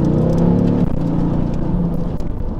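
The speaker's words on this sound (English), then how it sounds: "we're gonna go up here and just test the acceleration out briefly." A Mercedes-Benz AMG GT Roadster engine accelerating on an open road: a loud, steady, close engine drone with a strong low rumble and layered tones, and no talk over it.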